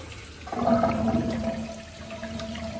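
Tap water runs steadily while a badger-hair shaving brush is rinsed under it, a close, continuous splashing rush that swells briefly then settles into an even flow.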